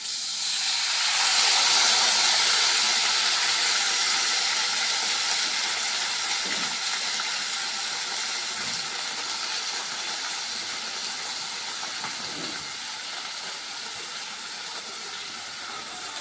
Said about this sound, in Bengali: চালটাকে এবার দিয়ে দেবো, কেন একটু ধোয়া উঠছে